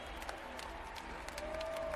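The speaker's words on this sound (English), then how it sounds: "get the applause, get the applause, get the applause" A wrestling awards audience applauds at moderate distance, with continuous clapping and faint crowd cheering, slightly muffled and under a thin tonal hum.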